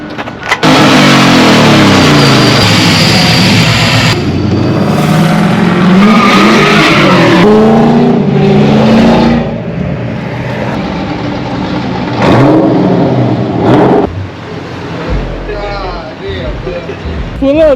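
A car doing a burnout with a slipping clutch at a street sideshow, loud continuous engine roar and squealing tires, with people talking and shouting over it.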